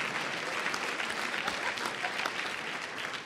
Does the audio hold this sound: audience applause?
yes